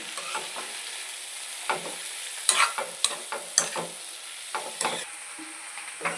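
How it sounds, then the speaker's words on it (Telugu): Fenugreek leaves fry in a pan for a tempering for dal, a constant sizzle broken by repeated close scraping strokes of a spoon, with no talking. "మెంతి కూర బాగా ఫ్రై అయిపోయింది"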